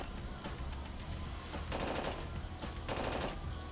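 Bursts of rapid automatic gunfire in a video game, long rattling volleys with short breaks between them, dense and continuous across the clip with no talk.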